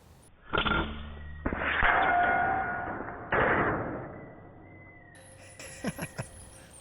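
Evanix AR6K PCP hunting air rifle firing a headshot: a sharp crack near the start followed by a second impact thump, then a brief loud report around mid-clip, with faint clicks and rustle toward the end.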